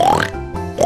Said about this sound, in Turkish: Domuz.